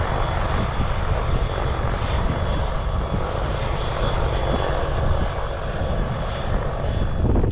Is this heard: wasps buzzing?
no